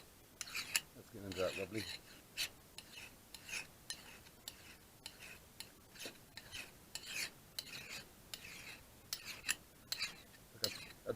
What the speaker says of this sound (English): Now it helps if your file's sharp too.